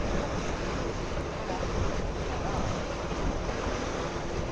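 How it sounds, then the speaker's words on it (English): Steady roar of wind buffeting the microphone over rushing water on a boat in the Baie des Canoubiers, Saint-Tropez, continuous and loud with no clear pauses. "All of a sudden it's getting windy."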